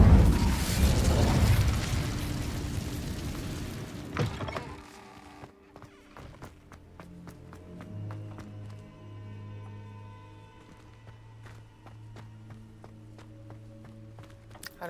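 A fire spell cast in the video game Hogwarts Legacy, a loud broadband burst and whoosh of flame lasting about four seconds that cuts off sharply, leaving quiet game ambience with soft musical tones.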